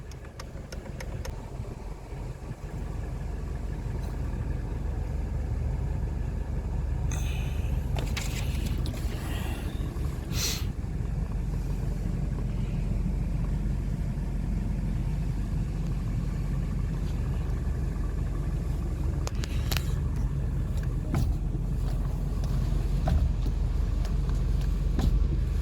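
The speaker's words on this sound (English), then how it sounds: "Hear the fans blowing now." Inside a MINI Cooper R56, the heater blower fan hums and rushes steadily over a low engine drone, with a few brief clicks and knocks.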